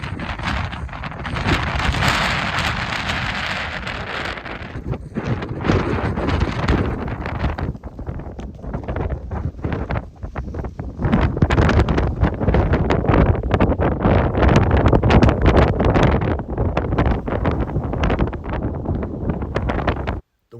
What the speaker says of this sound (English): The windstorm got so violent that I seriously questioned whether or not I was going to finish this one